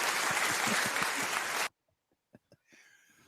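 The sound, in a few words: audience applause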